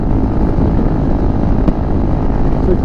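Honda CRF300L Rally motorcycle engine holding a steady cruising speed on stock gearing, a loud, continuous drone with wind rush close to the rider, one faint click midway.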